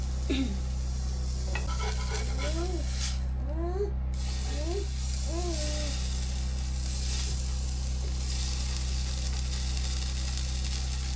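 Thin strips of moose meat sizzle steadily in a hot pan, a continuous close frying hiss with a low hum underneath and a few brief voice-like chirps early on.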